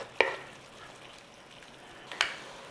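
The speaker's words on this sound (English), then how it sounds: "want to be going in there with our beef. Start to give it a break up in there and start cooking it." Beef fries in a pan and is broken up while it cooks for a French onion pasta bake, giving a quiet, continuous sizzle with two sharp scraping clicks from the utensil, one near the start and one near the end.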